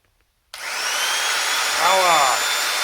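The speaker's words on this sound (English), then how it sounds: "this amazing super old school Black & Decker drill" An old corded Black & Decker power drill starts after half a second of silence and runs as a steady, loud whine, with its pitch wavering and dipping briefly near the end.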